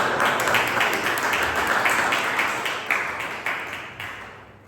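Toastmasters meeting audience clapping, a moderate wash of applause that gradually fades toward the end.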